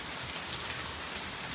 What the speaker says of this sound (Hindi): ये जोरदार बारिश हो रही है, तकड़ी तकड़ी बारिश पड़ रही है।